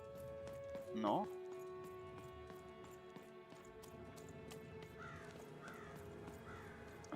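A crow caws in the video game Lost In Random, a short harsh call rising over a steady ambient game soundscape, followed later by a few faint repeated calls further off while a voice talks.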